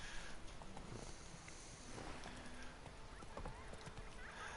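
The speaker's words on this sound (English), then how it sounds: "let me actually get my horse and ride while talking instead of just standing here" Horse hooves clip-clopping at a riding pace in The Witcher 3: Wild Hunt, a faint, even trotting rhythm under low ambient game sound.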